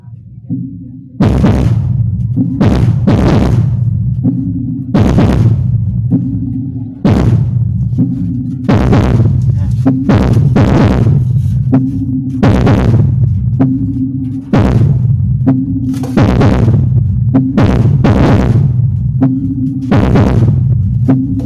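Battle-style music with heavy, booming bass thumps pumped through a Rockford LF-15A100 15-inch 1000 W subwoofer, loud and dominant, the beats hitting in a steady rhythm with short gaps between phrases, alone without talk.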